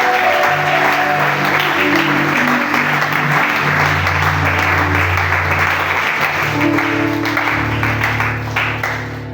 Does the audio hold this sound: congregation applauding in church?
yes